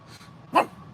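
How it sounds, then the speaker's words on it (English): A single sharp dog bark sounds close by in the middle of a quiet moment, with faint background murmur before and after. "Go bark at them from the grass, Mr. Brave"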